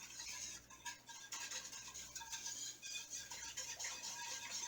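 A whisk stirring in a pot on the stove for a meatball dish, a faint rhythmic scraping and patter against the metal, repeated strokes heard close with no talking.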